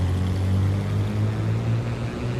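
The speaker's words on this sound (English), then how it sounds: "Let's go ahead and get our engines up, and we're gonna start the roll." Twin piston engines of a Black Square Duke B60 in Microsoft Flight Simulator throttle up for the takeoff roll, a steady loud droning hum with deep tonal rumble, no voices.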